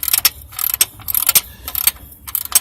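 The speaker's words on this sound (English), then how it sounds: "Last bolt you want to tighten up on the motor mount." Ratcheting wrench clicks in quick bursts while the top motor mount bolt is tightened on a 2004 Chrysler Sebring four-cylinder engine, close and crisp with short pauses between strokes.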